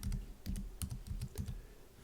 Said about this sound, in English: I'm just going to type header.